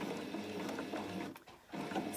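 A noisy new sewing machine runs in quick mechanical bursts, a rattling, ratcheting whir with brief pauses, heard close at moderate level.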